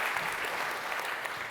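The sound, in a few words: audience applause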